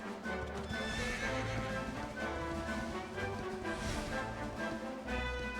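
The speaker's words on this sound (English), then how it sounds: "Well, sorry, horsey." A horse whinnies and neighs with clip-clopping hooves in Dragon Quest 11, the calls rising over steady game music and recurring in bursts across several seconds, with no talking.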